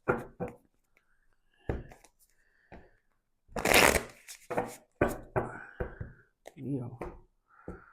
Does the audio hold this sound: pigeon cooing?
no